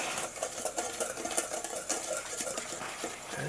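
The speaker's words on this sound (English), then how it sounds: "I just want to mix these ingredients up really well." Dry muffin ingredients with ground cinnamon are stirred together in a bowl for s'mores muffins, a steady, soft scraping and tapping rhythm up close with no talking.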